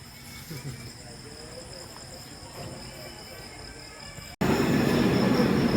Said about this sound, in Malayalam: ഇപ്പൊ ഗൈസ് നമ്മുടെ ട്രെയിൻ വന്നു കേട്ടോ